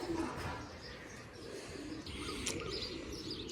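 Pigeons coo softly inside a large backyard loft, low murmuring calls with a few chirps over a steady airy background, no voices.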